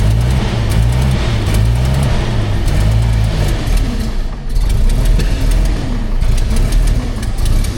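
Engine of an abandoned 100-year-old Packard car running again after fresh fuel, a loud, close, lumpy low idle with a wavering pulse and a brief dip mid-way.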